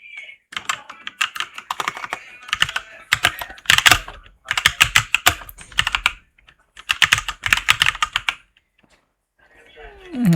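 Bursts of computer keyboard typing come through clearly as text is entered into a PowerPoint text box, with rapid clustered keystrokes, short pauses between runs and a faint voice at the very end.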